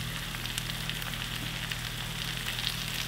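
Steady, even sizzling of flounder fillets frying in a hot pan, with a low hum underneath and no talking.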